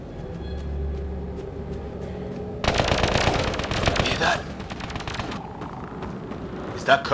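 Rapid automatic gunfire from a sci-fi shooter game, Mass Effect: Andromeda, bursts of loud close shots and a fusillade running through most of the clip, with rumbling impacts and a voice speaking over the battle.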